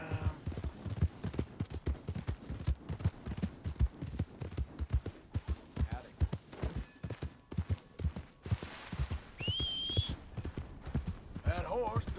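Horse hooves clip-clop in a steady rhythmic gait in Red Dead Redemption II, close and prominent. A horse whinnies and snorts now and then, with brief high tones and a burst of noise near the end.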